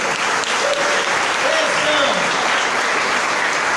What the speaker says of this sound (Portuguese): Aplauda o Eterno.